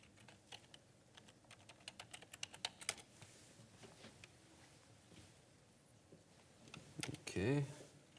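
Typing on a British-layout computer keyboard, a fast irregular run of light clicky keystrokes, quiet and close, with a voice talking faintly at points.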